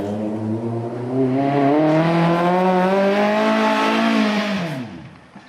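A car drifting in a yard, its engine loud and revving high in a long steady howl that climbs and then falls away, with a faint tire squeal mixed in and no talk.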